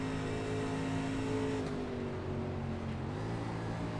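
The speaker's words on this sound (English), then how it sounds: "You hear the shift down to third." A race car engine drones steadily at Pocono, its pitch sliding down as it downshifts to third heading into the tunnel turn, a continuous onboard roar with no talk.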